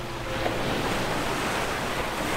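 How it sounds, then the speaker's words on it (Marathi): A big ocean wave crashes onto rocky shore, a loud broad wash of surf rushing in after a brief moment and roaring steadily to the end, with wind noise and no voices. "पुन्हा मोठी लाट किनाऱ्याच्या खडकावर आदळली."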